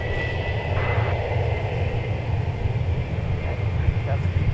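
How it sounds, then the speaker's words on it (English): A Delta jet airliner departs an airport for Atlanta with a steady, moderately distant engine roar and low rumble throughout, and a faint higher whine laid over it. "Here's 1026, a Delta flight off to Atlanta, Georgia."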